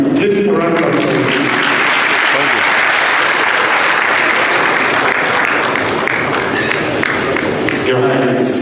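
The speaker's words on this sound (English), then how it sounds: "Please round of applause." A large crowd at a ceremony installing a new Edo State deputy governor claps loudly in a sustained, dense roar of applause that swells and fills nearly the whole stretch, with a voice heard briefly at the start and end.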